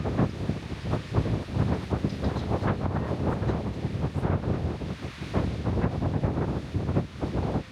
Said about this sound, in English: The wind outside is absolutely ferocious.